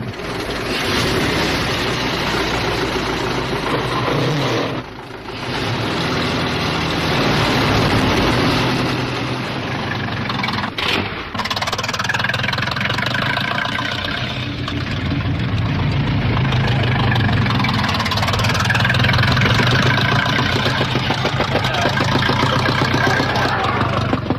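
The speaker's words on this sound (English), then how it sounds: "Lancia of Italy is on a Fiat. That's a new Renault." Early 1906 Grand Prix racing cars, a Fiat and a Renault, rumble with a continuous low engine drone throughout, under a narrator's voice, with a dull hiss in the sound.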